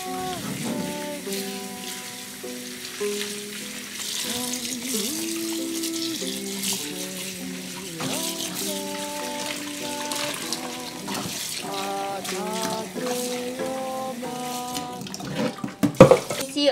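Aster scaber greens are swished and rinsed in a basin of water at a kitchen sink, giving soft continuous sloshing and running water under steady background music, with a sharper clatter near the end.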